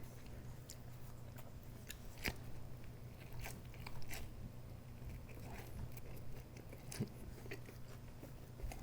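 Someone eats a Taco Bell beef crunchwrap, with crisp bites and chewing crunches scattered over a faint steady background hum, close but quiet and with no talking.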